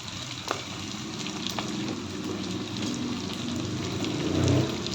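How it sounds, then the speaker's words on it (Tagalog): Garlic sautéing in a hot pan gives a steady, fairly loud sizzle and crackle throughout, with small pops rising near the end and no talking. "magigisa na tayo ng bawang"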